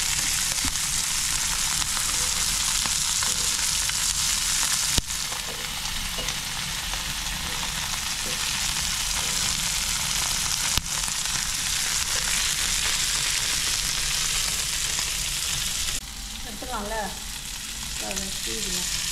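Fish frying in hot oil in a pan, made alongside a thick sambar, giving a steady, loud broadband sizzle that runs unbroken for the whole stretch, with a few brief clinks and stirring noises.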